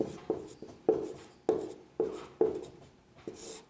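Pen strokes on paper, close and quiet: about eight short scratchy strokes in an uneven rhythm, each starting sharply and trailing off, with brief pauses between them.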